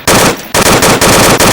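Rifle fire in the VR shooter Onward, very loud close automatic bursts with a brief pause between the first and second volleys, ending in sustained rapid fire.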